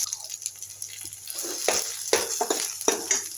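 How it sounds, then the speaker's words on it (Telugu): Eggplant pieces fry in a pan with curry leaves, green chillies and mustard seeds for a yogurt chutney, giving a steady hiss broken by several stirring scrapes and clatters, close and moderately loud, with no talking. "కరివేపాకు, పచ్చిమిర్చి, ఆవాలు వేగిన తర్వాత వంకాయ ముక్కలు వేసుకోవాలి. వీటిని చక్కగా మగ్గనివ్వాలి."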